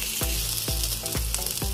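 Ginger browning in hot oil in a pan for chicken sinigang sizzles steadily and close, with soft stirring knocks at a regular beat about every half second.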